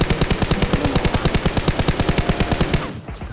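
Sustained automatic rifle fire in the Game for Peace mobile shooter: a rapid, steady burst of about twenty loud, close shots in even rhythm, cutting off near the end.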